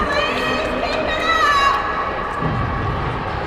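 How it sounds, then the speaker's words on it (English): Crowd at a youth ice hockey game cheering and shouting steadily throughout, a dense wash of voices with no single call standing out. "The crowd is getting into it."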